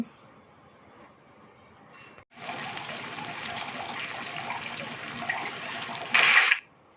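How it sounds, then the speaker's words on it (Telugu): Stuffed brinjals dropped into hot oil in a pan, a sudden loud sizzle that starts after a quiet moment and crackles steadily, then flares briefly before cutting off. "మన మసాలా స్టఫ్ చేసుకున్న గుత్తి వంకాయలు అయితే ఆయిల్లో వేసుకుందాము"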